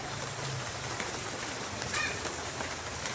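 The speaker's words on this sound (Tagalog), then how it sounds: "Ang ulan. Ang ulan talaga." Steady rain falls outdoors as a continuous soft hiss, with a brief faint bird call partway through and no voices.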